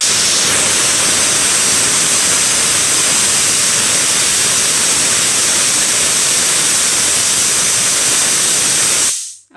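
A pressure cooker on the stove vents a loud, continuous hiss of steam while Karnataka-style akki usuli cooks, holding steady and then cutting off abruptly at the end.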